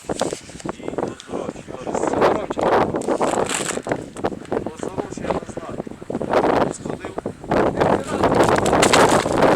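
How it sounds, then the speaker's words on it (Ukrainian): Gusty wind buffets the microphone in rough, uneven rumbles, with voices talking faintly underneath. "А, вітер."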